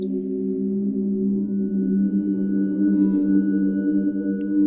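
A sustained, shimmering electronic drone with layered steady tones and a faint high whine, holding evenly throughout: the time travel sound effect from the video game The Silent Age.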